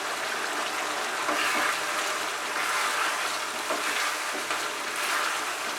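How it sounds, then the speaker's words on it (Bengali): Doi chicken curry gravy frying and being stirred in a pan, a steady close sizzle with soft scraping strokes running throughout, no voices. "ততক্ষণ কিন্তু মাঝে মাঝে এরকম নাড়তে হবে, না হলে নিচে লেগে যাওয়ার সম্ভাবনা থাকবে"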